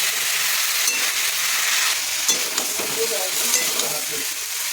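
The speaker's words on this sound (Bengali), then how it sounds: "এবার এর মধ্যে পেঁয়াজ বাটাটা দিয়ে দেবো। ভালো করে আবার কষিয়ে নেবো।" Onion paste sautéing in a pan with chili-tomato paste in very little oil gives a steady close sizzle, with soft scraping and stirring strokes growing more distinct toward the end.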